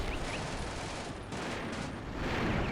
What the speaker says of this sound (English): I think it's a 3-inch mortar that is now dropping still.